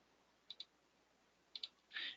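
Mouse clicks while using a web browser: two quick double-clicks, each a crisp pair of ticks, spaced about a second apart and followed by a slightly longer click-rustle, all close and quiet.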